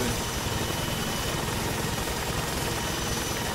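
Helicopter engine and rotor noise from the video game ArmA 3 drones steadily overhead, a dense, constant mechanical roar with no pauses.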